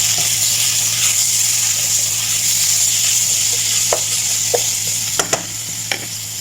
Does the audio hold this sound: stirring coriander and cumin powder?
yes